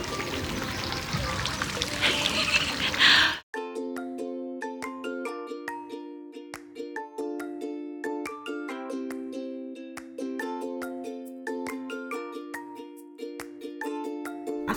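Water splashes and pours steadily from fish-shaped fountain statues for about three seconds, loud and close, before giving way to tonal background music.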